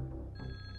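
A telephone bell rings once, a short bright electronic trill that starts partway through and holds steady, faint in a quiet room.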